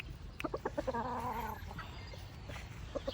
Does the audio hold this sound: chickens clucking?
yes